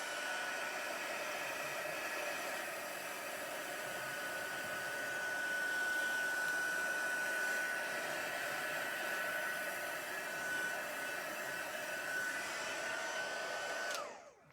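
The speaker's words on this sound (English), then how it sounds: "let me get my heat gun, my heat tool, and dry this" Heat tool blowing hot air to dry alcohol ink on a stamped craft card, a continuous steady whirring hiss for about fourteen seconds before switching off.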